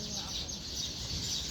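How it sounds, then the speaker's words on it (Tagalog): Birds chirping outdoors near a tamarind tree in Dubai, a continuous high bright twittering that stays moderately loud throughout over a low murmur of background sound. "May mga huni ng ibon, no?"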